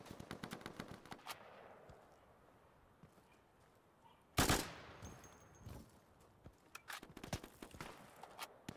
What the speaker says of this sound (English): Where did that shot come from? Looks like a sniper round, but I can't tell.